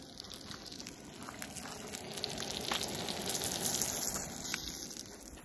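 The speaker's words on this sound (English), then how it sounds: "frying up a couple of those pan-sized ones for dinner tonight" Steady crackling sizzle of pan-sized fish frying in a pan at a campsite, a continuous hiss with small pops rising slightly toward the end.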